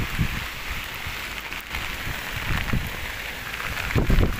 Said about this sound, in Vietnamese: Hiện tại trời đang mưa luôn mọi người.